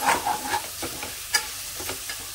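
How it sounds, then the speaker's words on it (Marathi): A large tomato being stirred into a pea curry as it fries in a pan, with soft sizzling and a few scraping strokes of the spoon in a quiet kitchen. "आता यामध्ये ना टोमॅटो घालून घेऊया आणि हा आहे ना 1 मोठा टोमॅटो घेतलाय मी, चांगला मिक्स करून घ्यायचा।"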